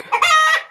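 A single short rooster call, a bright strained crow lasting under a second, loud and close.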